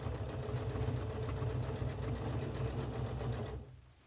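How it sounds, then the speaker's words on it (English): A sewing machine stitches bias tape trim onto a raw fabric edge, running steadily up close with a rapid even needle rhythm, then stopping abruptly near the end. "sewing, making sure my needle is down."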